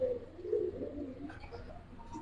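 A pair of Gribaz silver chila pigeons cooing nearby, a few soft low throaty coos in quick succession, fairly quiet.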